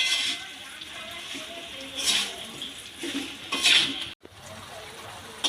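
A small splash of water poured into a pan of raw mango pickle cooking with melted jaggery, heard as soft, brief trickling bursts against a quiet kitchen background.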